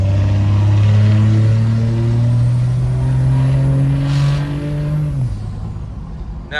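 A 4th-generation Cummins diesel pickup with a 2G turbo swap and a failed turbo accelerates hard in a loud, close pull. Its deep engine drone climbs steadily, then drops sharply as it shifts near the end.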